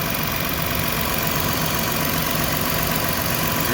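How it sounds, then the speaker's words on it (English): The engine of a Ford Transit van runs steadily at idle, giving a dense, even mechanical rumble with a constant hiss across the clip. Nothing changes in level, and no voices are heard. "I got the engine running so you can see this."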